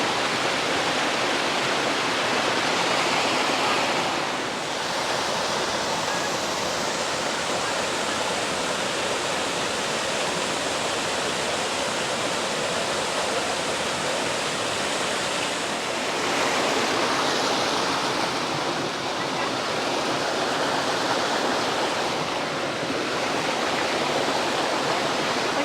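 A continuous, full-bodied roar of cascading water at Spain's Algar waterfalls, heard up close with only slight swells in loudness and no talking.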